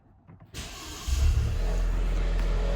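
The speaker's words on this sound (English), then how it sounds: "Key battery low, let's start it." A crash-damaged Maserati car engine cranks after a moment of near silence, catches with a loud low roar and settles into a steady rumbling idle, close by.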